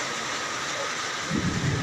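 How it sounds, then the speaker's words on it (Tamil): Heavy rain pours down at the Panruti bus stand as a steady, dense hiss, with a low rumble swelling slightly toward the end. "பன்ருட்டி பகுதியில் மிக கனமழை பெய்து கொண்டிருக்கிறது"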